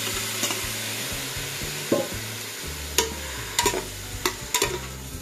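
Ox tripe and beef stomach hit sautéing garlic in a pan for gotong Batangas and fry with a continuous sizzle, while several sharp scraping knocks of stirring cut through near the end, with no speech.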